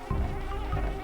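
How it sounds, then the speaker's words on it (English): Bees buzz in the video game Banjo-Kazooie, a continuous droning hum with a dense, wavering tone that stays steady and close for the whole short moment, with no talk over it. "Bees?"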